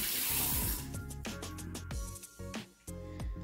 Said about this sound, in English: Let me just rinse a little bit before I hold the brush.